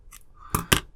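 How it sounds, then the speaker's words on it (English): Scissors trim excess material from a dolls house wall, first a faint snip and then two sharp, close cuts in quick succession within a second. "Just use some scissors,"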